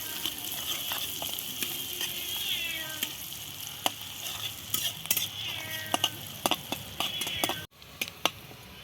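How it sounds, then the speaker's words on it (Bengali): Onion frying lightly in oil in a pan for an egg curry, a soft continuous sizzle broken by repeated sharp clicks and scrapes of a stirring utensil, while a cat meows now and then in the room. "পেঁয়াজটা আমি হালকা করে ভাজবো।"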